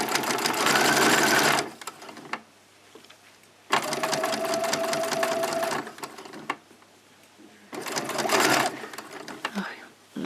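A sewing machine stitches a cloth pad in three loud, steady bursts of rapid needle chatter, separated by short pauses filled with quieter handling noise.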